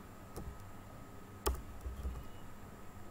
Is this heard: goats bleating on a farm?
no